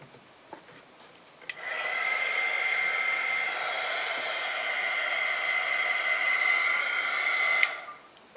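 An old hair dryer drying paint blows with a steady whirring hiss for about six seconds, switched on and off with clicks, close and fairly loud in a quiet room.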